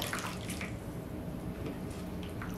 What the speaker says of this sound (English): I soaked this sphagnum moss in water. And you have to take it and squeeze it tight. Get as much water as you can out of it